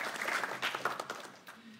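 A brief round of applause from the audience at a Płock youth council debate, with a patter of hand claps that softens toward the end.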